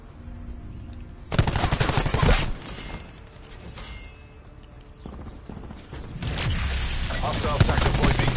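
Rapid automatic gunfire from a video game Domination match rattles in two sustained bursts, loud and close, separated by a quieter stretch of game ambience.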